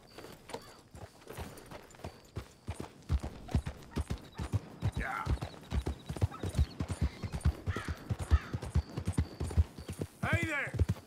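Rhythmic clip-clop of horse hooves walking close by in Red Dead Redemption 2, with a horse whinnying near the end and faint talk in the background.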